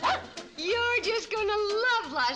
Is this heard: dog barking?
yes